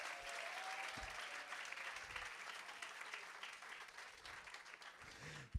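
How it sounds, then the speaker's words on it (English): Audience at a kindergarten step-up ceremony at Merrick Academy giving a sustained round of applause, a dense continuous patter of many hands at low level with a few faint voices mixed in. "Let's give them another round of applause."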